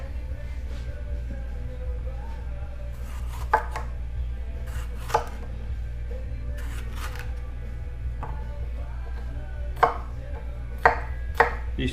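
Knife chopping green onion and other vegetables on a board for a green curry, a series of sharp scattered taps, close and clear over a steady low kitchen hum.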